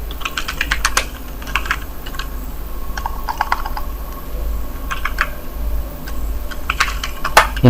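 Typing on a computer keyboard while building an accounting worksheet in Excel: bursts of close, crisp key clicks in irregular clusters, with short pauses between, and no talk over them.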